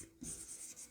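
Handwritten working being set down during a class 10 maths lesson on quadratic equations, a short burst of scratchy pen or chalk strokes, close and fairly quiet, with no talk over it.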